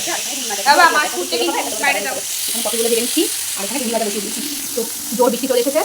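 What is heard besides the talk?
frying fish and okra in a pan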